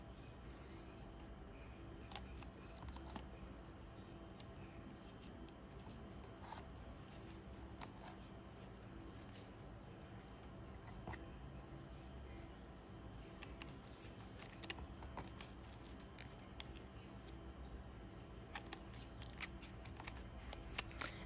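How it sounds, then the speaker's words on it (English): Quiet, close snipping and clicking as the seam between plastic and foam is trimmed, a scattering of faint, irregular cuts over a low background. "you're going to trim right in that seam in between the plastic and the foam"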